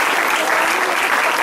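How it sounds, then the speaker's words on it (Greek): Warm applause for dancers at a summer village festival of Saint John in Stanos, Chalkidiki, Greece: dense, steady clapping from a crowd, loud and sustained with no break. "Ένα θερμό χειροκρότημα στους χορευτές μας και όλους όσους συμμετέχουν στη σημερινή εκδήλωση."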